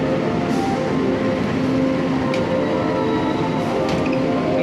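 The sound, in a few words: Malabar passenger train arriving at station platform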